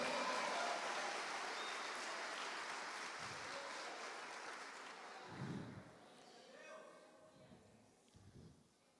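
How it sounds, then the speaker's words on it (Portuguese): A church congregation applauding steadily, dense clapping that gradually thins and fades, with a few voices and shouts rising at the end. "Aplauda o Senhor"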